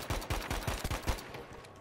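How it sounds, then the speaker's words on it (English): Gunfire in the video game Battlefield 5 during online multiplayer: a rapid string of loud, sharp shots about five in quick succession, then a fading tail. "Was it the sniper that shot me?"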